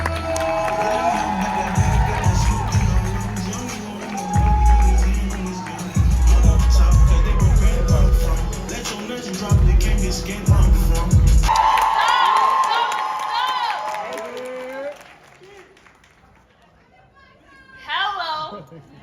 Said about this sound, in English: Round of applause for Fontaine.